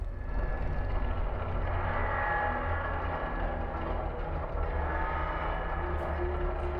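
A cursed elevator in Blasphemous 2 descends with a continuous low mechanical rumble and drone that holds steady and loud for several seconds.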